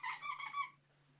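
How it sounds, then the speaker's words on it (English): A squeaky chew toy squeezed by an excited puppy, a high rapid squeal lasting under a second over a low steady electrical hum, heard faintly during an online town board meeting. "someone's puppy is excited."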